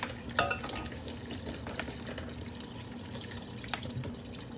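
Water pours steadily from bottles into a cooking pot in a home kitchen, a continuous splashing gush with small clinks, close and fairly faint.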